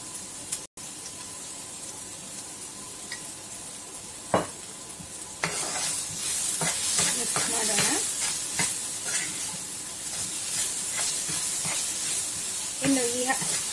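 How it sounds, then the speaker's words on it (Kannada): Sliced bitter gourd fries in a pan until crispy, a steady close hissing sizzle that swells after a few seconds, with scraping stirs and occasional spoon knocks on the pan. "ಫುಲ್ ಕ್ರಿಸ್ಪಿ ಆಗೋವರೆಗೂ ಫ್ರೈ ಮಾಡ್ಕೋಬೇಕು ನೋಡಿ"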